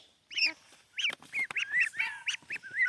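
Baby ducklings peep and call in short, high chirps, several overlapping in quick irregular bursts, close by and fairly clear against a quiet background.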